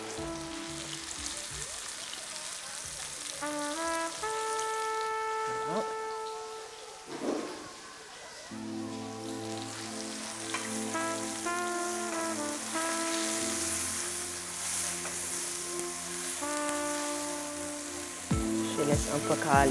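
Food caramelizing in a pan with a spoonful of broth, salt and pepper, giving a steady, soft sizzle and crackle that runs under tonal background sounds and a few brief clatters.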